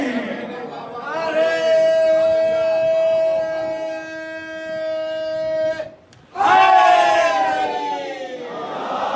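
A majlis crowd shouts the Nara-e-Haidari slogan in unison: one long, sustained collective cry, a brief break, then a second loud group shout.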